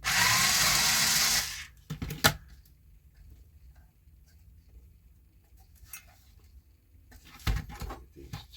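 A cordless screwdriver whirs close by for about a second and a half, backing out small screws from the side of a 1980s Radio Shack cassette player dash mount, followed by faint clicks and handling noises.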